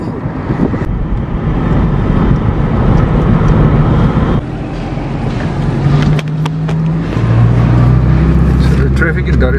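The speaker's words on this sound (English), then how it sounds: "First leg of our journey back home in the taxi of Rajaba on the way to Dar Airport" Inside a taxi on the road to Dar es Salaam airport, a steady loud engine and road rumble fills the cabin, with passing traffic and a rising engine tone toward the end.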